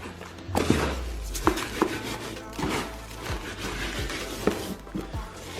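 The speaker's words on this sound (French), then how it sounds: "Je vais la frotter avec le gros sel." Veal belly is rubbed with coarse salt in a tub, giving close scraping, gritty rubbing with scattered dull thumps and knocks as the meat shifts and is pressed.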